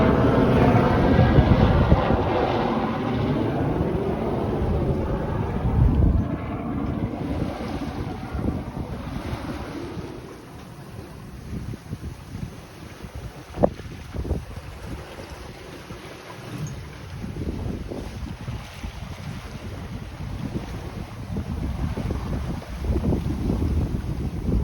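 Steady wind roars at sea aboard a sailboat on the North Sea, with waves washing and sloshing against the hull and buffeting gusts on the microphone throughout, continuous and fairly loud.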